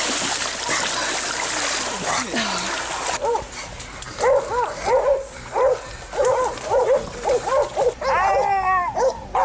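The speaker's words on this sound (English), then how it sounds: "When the dogs detect a wild pig, they will typically signal their discovery by barking loudly and attempting to hold the pig in place." Hunting dogs bark repeatedly at a wild pig in a swamp, a run of loud, rapid barks and yips close by, preceded by splashing and whimpering, with a voice talking over the start.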